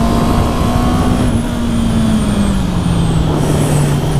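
A 2019 Honda CB650R inline-four motorcycle pulls on a test ride, the engine note droning loudly and sliding slowly down in pitch under strong wind and road rush, with no talking.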